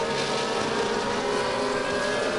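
Ferrari and other F1 race cars in a cockpit-view racing video game at the Dutch Grand Prix, a dense, loud engine whine that holds steady throughout with no talking.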